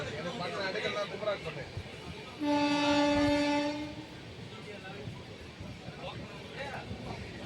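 The Nilgiri Express picks up speed out of Chennai near Basin Bridge, its steady rumble broken by a loud horn blast lasting over a second, while a voice talks over the moving train.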